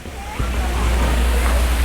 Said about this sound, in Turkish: Şelale var.